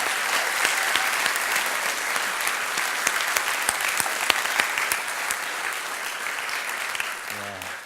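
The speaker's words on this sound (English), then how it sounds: "Would you give them a big, big round of applause for us?" Theatre audience applauding the backstage crew at a seaside variety show, dense sustained clapping filling the hall, loud and even from start to finish.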